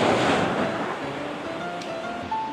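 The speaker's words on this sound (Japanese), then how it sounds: "今日はすごい波です。" Steady roar of high surf at Candidasa, Bali, with continuous broadband wash and wind noise, loud and close, no voices.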